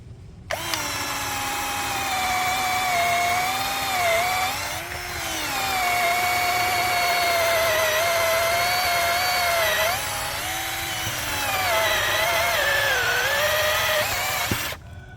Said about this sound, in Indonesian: masih mampu ya melubangi kayu meranti batu dengan kecepatan nomor 2